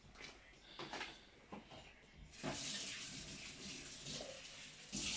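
Water poured into fritter batter in a bowl, a faint splashing stream that starts after a few soft kitchen knocks and runs steadily to the end, quiet and close.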